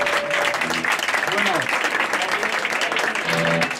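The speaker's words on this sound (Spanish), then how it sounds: "Podemos aplaudir eso también" Audience applause at a guitar contest on stage, a loud, sustained crowd of clapping hands with brief tonal sounds and a voice faintly mixed in beneath.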